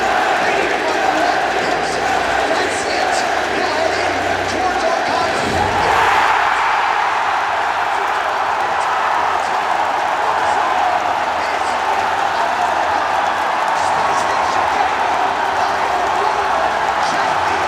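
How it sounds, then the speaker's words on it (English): A large indoor esports arena crowd at a Rainbow Six Siege event roars and cheers steadily throughout, loud and continuous, with a commentator talking over the noise. "Just listen to that crowd."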